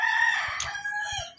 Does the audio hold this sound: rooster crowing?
yes